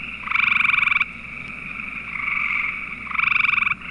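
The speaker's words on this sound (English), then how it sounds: "So this is the typical tree frog call," A gray tree frog's call: loud, close trilling bursts of rapid pulses, two long trills separated by a steadier pulsing stretch, with no voices.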